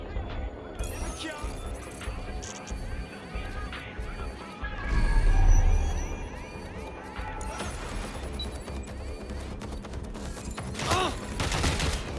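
Gunfire and crashes in the video game Watch Dogs: Legion come as bursts of shots and impacts, with a heavier rumble midway, under a busy mix of game effects and spoken voices.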